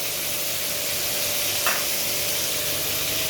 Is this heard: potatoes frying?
yes